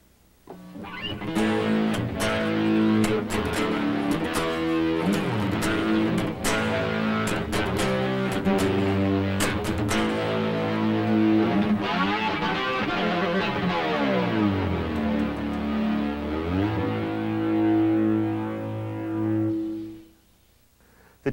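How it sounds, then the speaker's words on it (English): A Kurzweil K2600XS synthesizer played through a tube distortion effect, with gritty, buzzing sustained notes and chords ringing for about twenty seconds before fading out. "Here's another example using a tube distortion."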